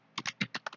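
Quick clacking keystrokes on a computer keyboard while entering router commands, about seven crisp taps in under a second, close and faint, with no talking.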